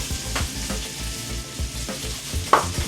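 Garlic butter steak bites frying in a pan, a steady, moderate sizzle with soft popping and spattering, plus one sharper clink near the end.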